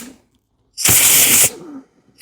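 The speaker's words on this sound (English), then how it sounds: "Just use some extra brake cleaner, carb cleaner, whatever you got." A short, close, loud hiss of carb cleaner sprays into a plastic carburetor from a Toro engine, one burst of about a second in an otherwise quiet space.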